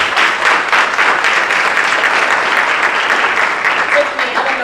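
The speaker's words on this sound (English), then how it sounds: "Let's give them a round of applause." A crowd claps steadily and enthusiastically, a dense, sustained burst of applause that holds for several seconds before tapering slightly.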